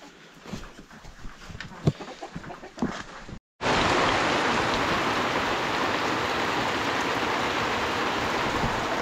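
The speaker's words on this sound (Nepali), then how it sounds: "पानी डेन्जर पानी परिरहेको छ" Heavy rain hammers down in a Nepali village beside livestock sheds; scattered faint sounds come first, then, after a brief silence, a loud, dense, constant downpour roars.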